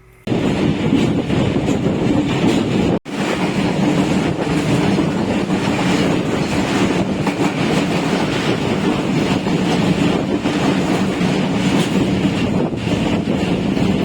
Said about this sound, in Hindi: वन अप खैबर मेल जो है वो गई है अभी यहाँ।